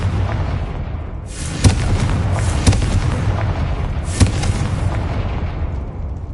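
Repeated Confringo fire-spell blasts in the Hogwarts Legacy video game, three sharp booming explosions over a dense roaring rumble, loud and close.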